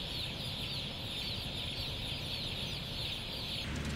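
About 19,000 day-old chicks fill a poultry shed with a dense, continuous chorus of high peeping chirps. The steady, bright wash of many birds holds at an even level throughout, with no voices.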